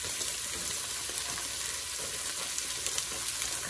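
Frozen celery sizzling in a hot pan for a meatball stew, a dense, even crackle that stays constant and fairly quiet, with faint stirring, no talking.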